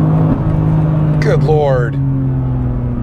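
A 2024 BMW M3 CS pulls hard under acceleration, its engine note sweeping quickly upward in pitch for about a second over a steady in-cabin drone, while a man exclaims over it.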